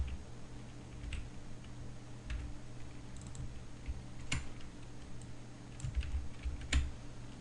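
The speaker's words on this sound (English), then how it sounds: "So here I'm going to type in Rano." Typing on a computer keyboard while entering code for a PHP password-reset page, quiet scattered keystrokes in short bursts with a few sharper taps, no talking.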